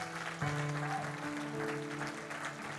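A church congregation applauds in praise during a worship service, a steady wash of clapping over sustained musical tones for about three seconds.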